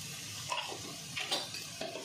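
Pepper powder being stirred into spicy chicken fried rice in a pan, with a soft steady sizzle and a few brief scraping strokes of the spoon close by, no voices.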